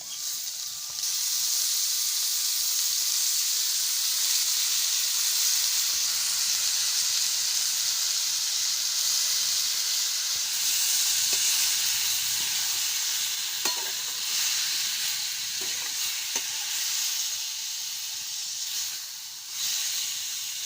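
Tomatoes frying in a hot pan give a steady, loud sizzle and hiss that runs throughout, with a few faint stirring clinks and scrapes and no voices.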